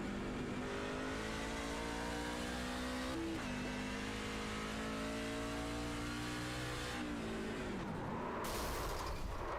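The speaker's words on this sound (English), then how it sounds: "Listen to the engine if we can hear it." A race car engine in the iRacing sim game at New Smyrna, droning loud and steady with shifting revs and gear changes, alone without talk.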